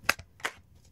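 A few quick, close card snaps and rustles as a tarot deck is shuffled and a card drawn, two or three short crisp bursts within a second.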